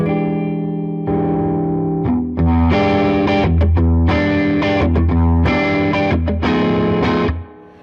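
Electric guitar played through an overdrive pedal into a BOSS Katana Artist Gen 3 amp, miked at the speaker grill, middle pickup position, chords ringing out with a gritty, saturated tone and short pauses between phrases, loud and close.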